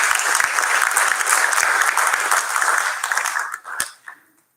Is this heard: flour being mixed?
no